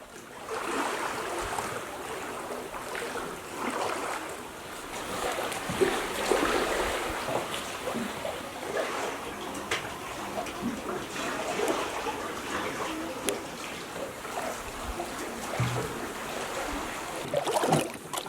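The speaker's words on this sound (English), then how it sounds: "listening to the water lapping into the echoing caves" Sea water laps and sloshes continuously in echoing sea caves, a steady wash of splashes with occasional sharper slaps, no voices.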